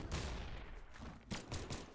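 Rapid pistol fire in the Brawlhalla fighting game, a faint burst of quick shots at the start followed by a few separated pops, with no talking.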